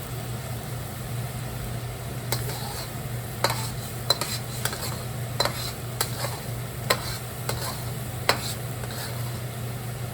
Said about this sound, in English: So you're kind of making kind of like scrambled eggs.